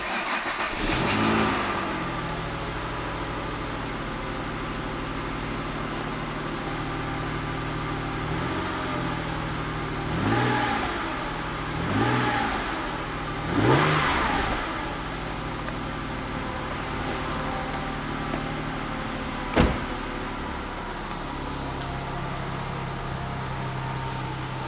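A Ford Mondeo ST220 with a rusted exhaust cranks and starts, then idles steadily and is revved several times in short blips, heard up close with a steady engine drone throughout.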